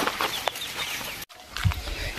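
Chickens on a farm clucking nearby with short, irregular calls, mixed with outdoor background noise and a brief gap partway through.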